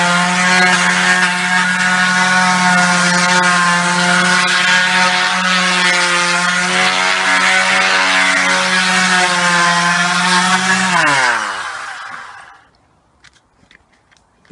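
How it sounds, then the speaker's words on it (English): A power sander runs steadily on garden furniture during restoration, a loud sustained whine that holds for about eleven seconds, then winds down and stops. "You just sand them down."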